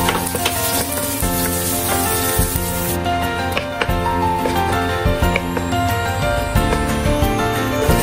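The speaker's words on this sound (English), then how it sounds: "Stir-fry dried shrimp." Dried shrimp stir-fried in a wok for braised pumpkin, giving a steady sizzle with scraping stirs throughout, under prominent background music.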